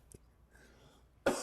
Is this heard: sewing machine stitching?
no